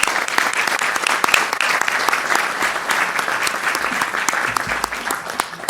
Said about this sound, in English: I'd like to actually give the teachers a round of applause.